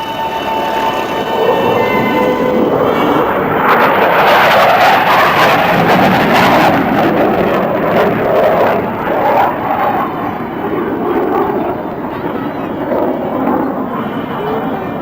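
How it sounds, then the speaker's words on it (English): A loud F/A-18 Hornet jet roars past at high speed in a sustained, broadband rush that swells in the middle and lingers as it recedes, at an air show, with no talking. "Approaching from the left, Lieutenant Commander Wilmore accelerates to over 9/10 the speed of sound"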